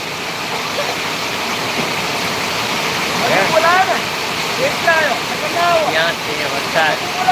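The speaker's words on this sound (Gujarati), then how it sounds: "ભાઈ સુરત ડિંડોલીમાં વરસાદ જબરજસ્ત ચાલુ રહ્યો છે" Heavy rain pours down in Dindoli, Surat, as a dense, constant roar close by. Voices come through now and then over the downpour in the second half.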